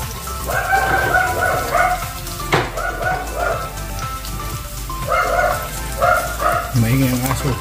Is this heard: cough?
no